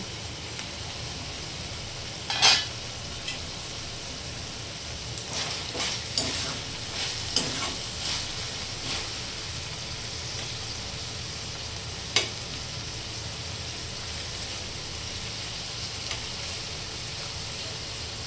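Beans and vegetables cooking in a pan at home, a soft steady sizzle throughout with occasional spoon scrapes and taps as the food is stirred, quiet and close.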